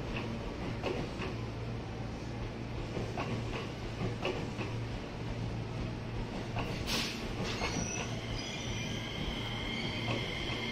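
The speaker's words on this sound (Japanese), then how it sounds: "なんか回送電車が来たんですよね。" An out-of-service train arrives at Hineno station in Japan, producing a steady, loud rail rumble throughout with wheel and track noise and a few sharper squeals and clatters.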